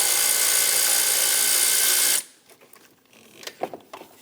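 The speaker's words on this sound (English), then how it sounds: "We're going to use an 8mm socket and we're going to loosen the clamp." An 8mm socket ratchet loosens the intake clamp at the throttle body of a 4.8L Chevrolet Express 2500. A loud, steady broadband rush lasts about two seconds, then cuts off to faint, scattered small clicks and ticks.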